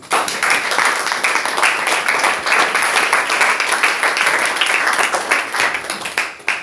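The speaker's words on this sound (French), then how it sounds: "Applaudissons pour le Seigneur." A church congregation claps together in praise during a sermon, a loud, dense, rhythmic patter of many hands that carries on for over six seconds with no voices on top.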